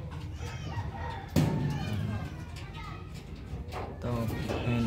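Chickens cluck and fuss in a racing-pigeon loft during a derby cutoff, several short calls and clucks repeating over steady background noise, with people talking nearby.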